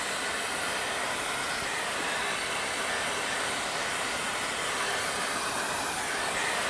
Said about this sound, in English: So we're going to use a shop vac or an air vac.